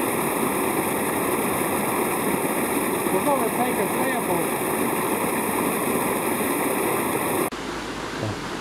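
Water pours steadily out of a discharge monitor tank at settlement ponds by Raccoon Creek, a constant close rushing hiss, while a person speaks briefly over it; the sound drops abruptly near the end.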